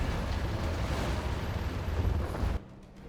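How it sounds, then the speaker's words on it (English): Heavy artillery fire in a strategy video game: a loud, continuous low rumble of shelling and blasts that runs steadily for about two and a half seconds, then drops suddenly to a quieter background. "Artillery coming in."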